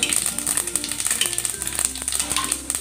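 Mustard seeds and bitter fenugreek seeds frying in hot oil for a Khandeshi chili curry, a continuous close sizzle with small crackles and pops and light stirring, no talking.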